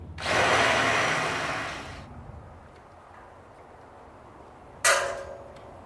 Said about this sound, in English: while I'm back there drilling out those holes